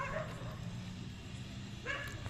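A small pet puppy yips and whimpers faintly in short high bursts at the start and near the end, over a low steady background hum.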